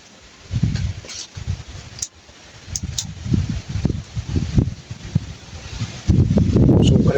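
After Typhoon Tino, strong wind buffets a microphone outdoors in rough, uneven low-pitched gusts. Rustling swells and fades, then builds to a heavy, sustained roar at the end.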